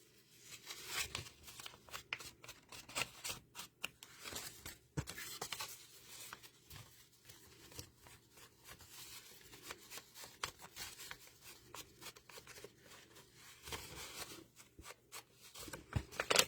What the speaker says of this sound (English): I'm going to ink around the inside part of this. Hopefully it doesn't sound too scratchy on the video.